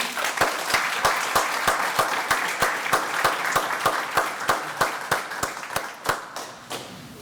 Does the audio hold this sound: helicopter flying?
no